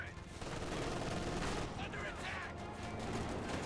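Dense gunfire from an M1 anti-tank gun and surrounding battle in the Company of Heroes 2 strategy game, a continuous loud clatter of shots with overlapping combat noise throughout.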